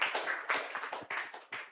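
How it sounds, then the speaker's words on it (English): Scattered audience clapping at a conference gathering, a brief burst of quiet, uneven claps from a small crowd, fairly distant. "A round of applause for her,"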